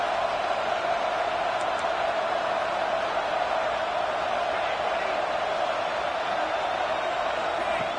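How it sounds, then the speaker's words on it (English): Football stadium crowd: a dense, constant roar of many voices at an even level throughout, distant and unbroken, with no single shouts standing out. "Listen to this crowd noise. This stadium is vibrating."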